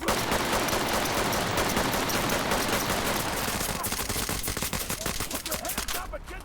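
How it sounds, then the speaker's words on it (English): Officers in the tactical shooter game Ready or Not open fire on the player: a dense, loud wash of gunfire that breaks into rapid, distinct shot bursts toward the end. "once they start shooting you"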